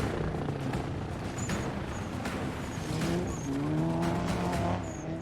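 A reinforced stunt car drives fast on a film set, its engine roaring steadily with rising tire squeals and whines laid over a broad, continuous rumble of loud noise.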